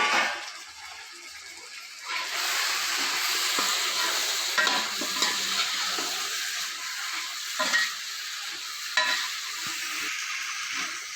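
Chicken pulao cooking in a pot gives a steady frying sizzle with stirring and scraping noises, moderately loud and continuous throughout, with no talking.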